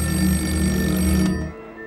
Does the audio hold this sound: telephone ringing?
yes